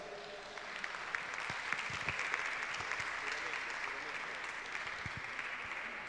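Applause from the audience at an Italian junior women's Olympic weightlifting championship in Lido di Ostia, faint and distant in a large hall, with a few sharper claps standing out.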